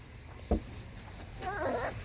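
Quiet, faint dog whimpering: a soft thump, then short high wavering whines toward the end over low background noise.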